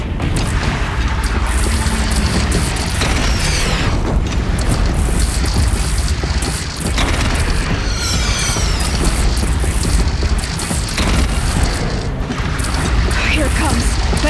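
Cannon fire from a mounted platform gun during a battle at Meridian in Horizon Zero Dawn, with deep booms and mechanical clatter rolling under a dense, loud wash of combat noise while voices talk over it.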